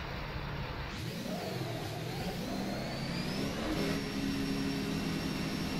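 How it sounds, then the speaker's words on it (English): A Ferrari Formula racing car engine in the sim racing game rFactor 2 whines and revs, its pitch climbing and dipping through gear changes, loud and continuous from start to finish. "Alright, Ferrari engine."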